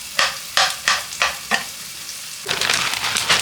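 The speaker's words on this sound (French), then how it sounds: "Hop, on vient mettre les petits oignons." Small onions go into a hot pan with about five sharp, rhythmic scraping strokes of stirring, then a bright, steady sizzle swells up close and loud.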